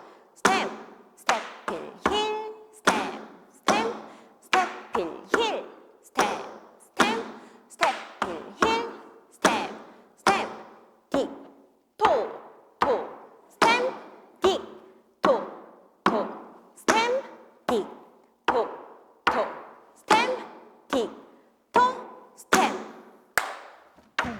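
Tap shoes strike a hard floor in a steady, driving rhythm of steps, stamps and heel taps, a tap routine set to Jingle Bells, with sharp close clicks and thuds repeating throughout and no talk.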